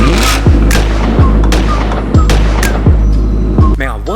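A loud engine rumble punctuated by sharp exhaust pops and crackles, roughly five evenly spaced bangs over a steady burbling drone.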